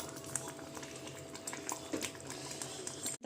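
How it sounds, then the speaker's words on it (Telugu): Tamarind and ginger pulusu simmering in a pot, a steady low bubbling with soft pops and faint kitchen noise throughout, no talking. "ఇగోండి ఇలా ఉడుకుతుంది కదా"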